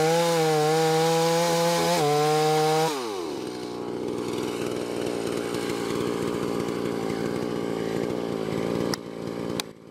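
A chainsaw cuts into a standing tree during felling, starting with a loud high revving whine, then dropping into a steady lower bogging drone as the bar bites the wood, close and continuous.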